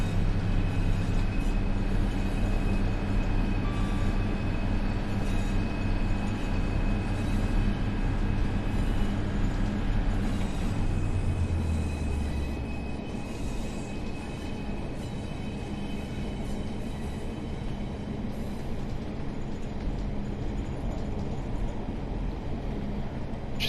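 A Class 142 Pacer diesel multiple unit runs steadily in Train Sim World 6, ex Arriva Trains Wales on the Treherbert line, with a continuous engine drone and rail rumble that eases and drops lower partway through.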